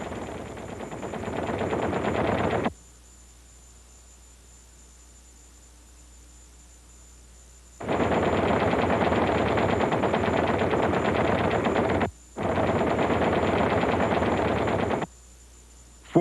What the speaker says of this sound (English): Four more 50 caliber machine guns were mounted in the nose, providing the Mitchell with more forward firepower than many fighters.